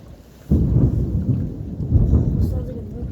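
Loud thunder bursts in a severe thunderstorm, a sudden deep boom that rolls and rumbles for several seconds with rain pattering underneath.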